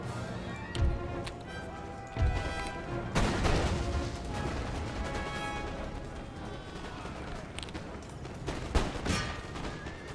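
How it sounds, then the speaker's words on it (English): Musket volleys in Empire Total War, ranks of musketmen firing in a battle at Hyderabad: several sharp, ragged bursts of gunfire crackle at mid distance over a continuous battlefield din. "On fire, your muskets."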